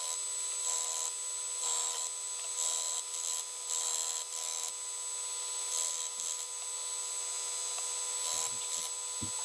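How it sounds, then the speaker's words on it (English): Power sander working over wood with glue-filled holes, a steady high whir pulsing in short passes as it bears on the surface, fairly faint and continuous with no talk. "going to hit them on the sander so when the wood gets sanded around them it will make a wood filler and set in the holes"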